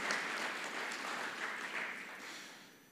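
Church congregation applauding two pastors at a Sunday Q&A service, a steady wash of many hands clapping at moderate distance, holding even for about three seconds before tapering slightly.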